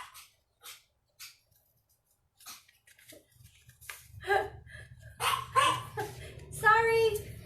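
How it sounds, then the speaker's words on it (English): A pet dog barks several times in short bursts in a home during a kids' cardboard fish mobile craft session, the barks fairly close and mixed with people talking nearby. "That's my dog."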